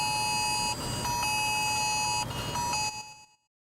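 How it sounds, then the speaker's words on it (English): A phone sounds a wireless emergency alert for a tornado warning: a loud, harsh, steady electronic tone in repeated long blasts with brief breaks, cutting off sharply at the end. "wireless emergency alert."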